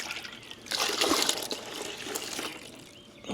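Water and a turf herbicide chemical slosh and splash inside a sprayer tank as the mix is shaken, a short burst of close, wet agitation with trickling in between.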